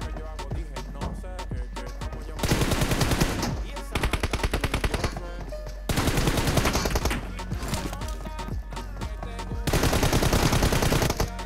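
Gunfire from a shooter video game in a competitive elimination match, long bursts of rapid automatic fire in repeated volleys separated by brief pauses, loud and close throughout.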